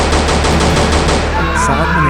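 Rapid gunfire in a Trollge animated video, a fast burst of sharp repeated shots at an even rhythm that fades after about a second into a brief tonal tail.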